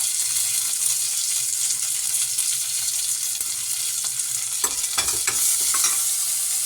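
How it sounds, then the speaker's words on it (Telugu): Cumin, red chili, bay leaf and garlic pieces frying in hot oil, a continuous bright sizzle with a few stirring scrapes near the end, close and alone. "జీరా కొంచెం, రెడ్ చిల్లీ కొంచెం, పత్తా కొంచెం, గార్లిక్ పీసెస్ కొంచెం ఫ్రై చేయాలి"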